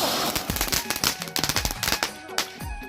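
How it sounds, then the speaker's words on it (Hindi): Firecrackers set off by a mother go off in a rapid, uneven string of sharp, close cracks and pops for about three seconds, with crackling between the louder bursts. "इनका पटाखा फोड़े देखा संगवार।"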